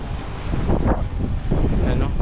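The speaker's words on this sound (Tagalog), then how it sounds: "Ano, lakas ng hangin" Strong wind buffets an outdoor microphone near a parking area, a steady loud low rumble with gusty surges throughout, while a person talks over it.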